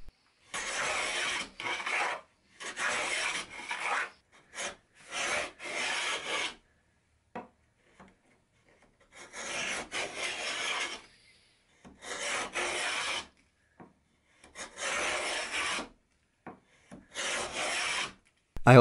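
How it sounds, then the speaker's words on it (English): Coarse 100 grit sandpaper wrapped around a dowel rubs across the grain of a wooden panel in repeated bursts of rasping strokes, close and clear with short pauses between passes. "I also did sand this with some 100 grit wrapped around a dowel"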